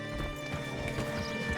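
Horse hooves clip-clop in Red Dead Redemption 2, a steady run of moderately loud hoofbeats on ground over a low, continuous background hum, with no one speaking.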